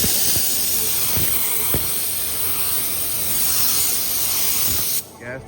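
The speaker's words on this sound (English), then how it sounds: "This is the first coat of primer." A spray gun lays down a first coat of primer on a 1984 C10 truck body, a steady loud hiss running nearly unbroken for five seconds before cutting off.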